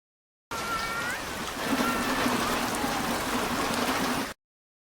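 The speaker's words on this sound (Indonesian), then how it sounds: "Keesokan paginya hujan pun turun cukup deras" Heavy rain pours steadily in a film scene, a dense, even hiss of falling water with a faint whistling tone near the start, holding at the same level for a few seconds with no one speaking.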